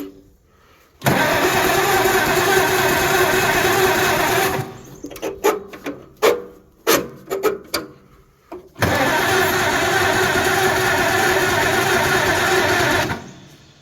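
A 1937 Oliver Hart Parr 70 tractor engine starting for the first time after sitting: a loud, steady cranking roar, then several sputtering bursts and coughs, then another long sustained roar up close.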